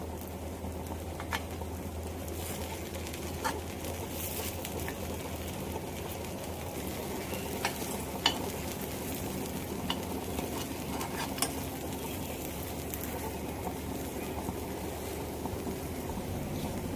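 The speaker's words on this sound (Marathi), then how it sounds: "आपण याला पलटी करून घेऊया आणि दुसऱ्या बाजूने सुद्धा गोल्डन ब्राऊन करून घेऊया" Mixed dal appe fry in a pan with a faint, steady sizzle and bubbling, broken by a few light taps and clicks from turning them over.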